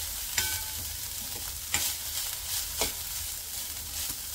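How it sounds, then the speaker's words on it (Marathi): Grated fresh coconut sautéed with poppy seeds in a pan for modak filling, a steady low sizzle with three or four sharp scrapes of a spatula, close and without speech. "ती फुलल्यानंतर आपण टाकणार आहोत ओल्या नारळाचा चव। हेही छानसं परतून घ्यायचं आहे।"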